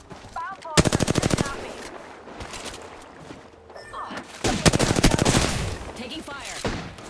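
Rapid automatic gunfire from the video game Apex Legends rattles out in two long, loud bursts with shorter shots between, mixed with game effects and a voice.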